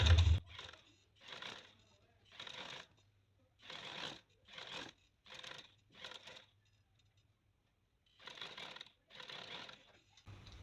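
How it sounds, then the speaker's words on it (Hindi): Home sewing machine running a line of stitches along the edge of a garment neckline, heard as a series of short, close whirring bursts separated by brief pauses. "किनारे की हमने सिलाई लगानी है इसके ऊपर।"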